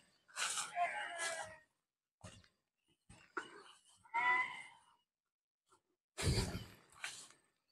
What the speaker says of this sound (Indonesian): Tuh, ada domba lagi diangon ya.